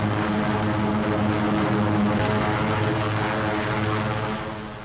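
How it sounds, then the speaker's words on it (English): Piston engines of B-17 Flying Fortress heavy bombers in flight during a 1943 wartime air mission, a loud, steady, continuous propeller drone that holds level throughout and tapers slightly at the very end, with no other sounds. "giant flying fortresses that drop their tons of high explosives on pinpoint targets"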